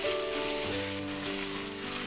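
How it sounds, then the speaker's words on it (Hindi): Chicken fries in a pan for a dhaba-style dal mash, a steady close sizzle that hisses without a break, with faint tonal background sound underneath. "चिकन मैंने बीच में फ्राई होने के लिए डाल दिया।"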